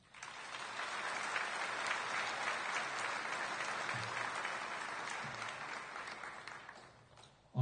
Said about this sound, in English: So please give her applause for that.